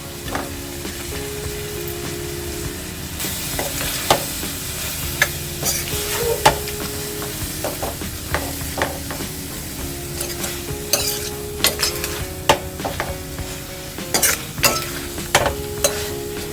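Dates being stirred into dry mango pickle with spices in a pan over low flame: continuous sizzling frying with repeated scraping and tapping of the spoon against the pan, close and clear.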